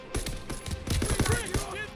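Gunfire from the World War II shooter game Call of Duty: WW2: rapid bursts of automatic fire crackle in quick succession, fairly close, with scattered single shots mixed in.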